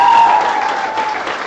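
Brief burst of applause at a national assembly honoring organizing committee members, a loud crowd clapping with a faint tone lingering underneath.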